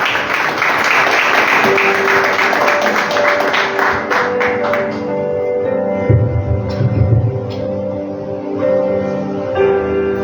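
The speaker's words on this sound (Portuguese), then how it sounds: "Salve de palmas, Senhor." Church congregation applauding, dense clapping that fades after a few seconds into music with a sustained organ-like tone and faint tapping.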